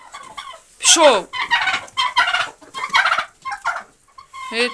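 A turkey gobbles in short bursts close by, mixed with a person calling out briefly.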